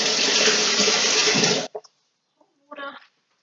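Tap water runs steadily into a kitchen sink as a utensil is rinsed during goat milk soap making, a continuous close rush that cuts off after under two seconds, followed by a few faint knocks and a brief splash.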